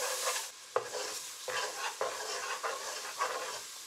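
Celery stirred through onions in a sizzling pan for shrimp étouffée, with a continuous bright fry punctuated by several scraping spoon strokes at an even pace, close-miked and moderately quiet.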